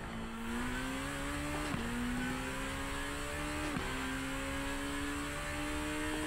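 A Super Formula race car engine in iRacing at Sugo screams at high revs, pitch rising through long pulls with quick shift dips, close and constant under a steady wind-like wash.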